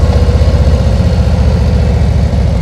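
A motorcycle engine throbs close and loud in a steady, rhythmic low pulse, held at modest revs in the friction zone of the clutch, with no voices over it.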